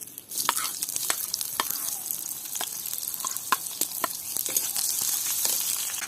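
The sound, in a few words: chopped onions frying in mustard oil on wood stove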